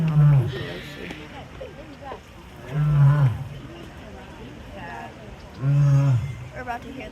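A lioness at the Potawatomi Zoo in South Bend, Indiana, gives three loud, low moaning calls at a steady pace, each lasting about a second, with people talking in the background.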